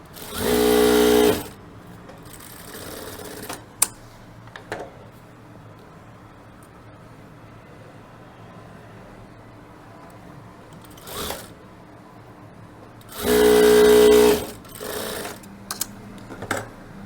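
Electric sewing machine stitching the lining of a V-shaped waistcoat, heard in two loud, steady runs of rapid whirring at the start and near the end, with quieter handling of fabric and brief clicks in between.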